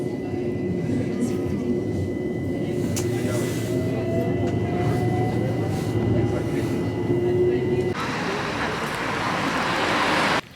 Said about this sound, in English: we're going to get the overground Mildmay line just down to Highbury and Islington